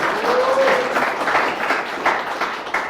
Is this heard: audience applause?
yes